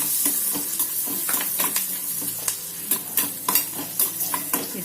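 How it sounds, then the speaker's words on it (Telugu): Green chillies frying in a pan as the first step of a restaurant-style butter chicken gravy, with a steady close sizzle and repeated sharp scraping taps of a stirring spoon against the pan, no talking. "ముందు పచ్చిమిర్చి వేస్తున్నా. అది కొంచెం వేగనిద్దాం."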